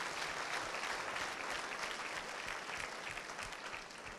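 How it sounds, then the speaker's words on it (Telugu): A crowd of engineering college students at Bapatla Engineering College gives sustained applause: even, full clapping from many hands for about four seconds, fairly soft and fading slightly at the end. "ఐ థింక్ అందరూ should give big clap of applause"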